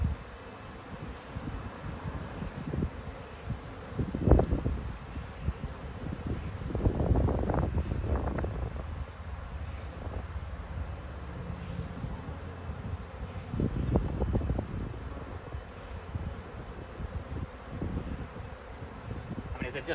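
Dense buzzing of a honey bee swarm all around, steady and close, with gusts of wind noise and some soft handling sounds of hive frames.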